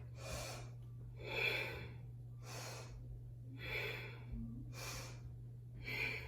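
Steady rhythmic breathing during a shoulder exercise: about five or six broad breath bursts, inhales and exhales alternating roughly every second, close and clear over a constant low hum, with no talking.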